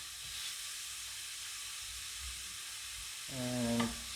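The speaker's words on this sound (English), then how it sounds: "I'm just going to warm it up a little just to get a little flavor on the onion" Onion warming in a little oil in a pan while cooking Bulgarian rice with tomatoes, giving a steady faint hiss of gentle sizzling, with a brief brighter tonal squeak near the end.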